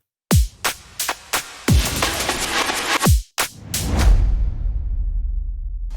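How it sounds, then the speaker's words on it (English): Punchy drum break hits with a swelling reversed-reverb wash, the tail rising and smearing into a long noisy whoosh that fades out. "I've automated some reverb and I've sort of reversed it as well"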